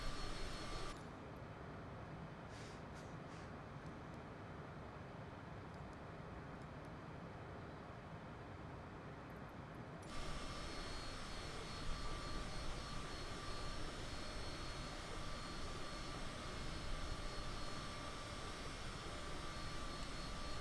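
Steady private-jet engine roar from a simulated flight through rough weather, a continuous loud drone that grows brighter and fuller partway through, with no talking.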